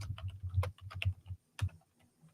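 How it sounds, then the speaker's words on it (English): Someone types on a computer keyboard close by, with quick irregular bursts of key taps, a short pause, then a few more scattered strokes. "I just like listening to the keys of him going tap tap"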